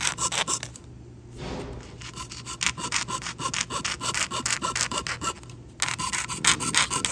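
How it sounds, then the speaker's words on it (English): A jeweler saw cuts a curve through wood veneer for an inlay, rasping in quick, steady back-and-forth strokes up close, with a couple of short pauses between runs. "That's the jeweler saw. It works great for cutting any type of curves."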